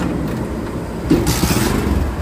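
A heavy-duty cargo truck engine cranks in cold weather as the starter is tried, a brief rough burst of mechanical noise rising over a steady low rumble, close and fairly loud.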